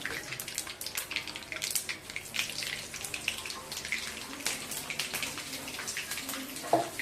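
Green chillies dropped into hot oil after mustard seeds and curry leaves spatter and crackle in quick, uneven bursts for a chicken kuzhambu, fairly faint and close, with no talk.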